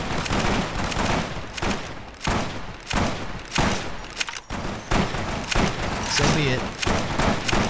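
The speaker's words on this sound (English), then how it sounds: "The hell are y'all shooting at?" Rapid gunfire from Fallout: New Vegas, a dense fusillade of overlapping shots and thuds rattling almost nonstop at close range, with a voice speaking briefly over the shooting.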